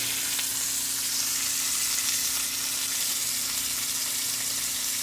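Food frying in a pan with a steady, dense sizzle and fine splattering crackle throughout, close and continuous with no talk.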